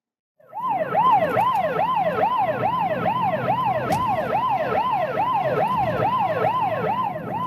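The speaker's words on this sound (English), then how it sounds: "An ambulance on call." An ambulance siren on an emergency call wails in a fast, regular up-and-down cycle, starting abruptly and then holding loud and steady throughout with no other sounds competing.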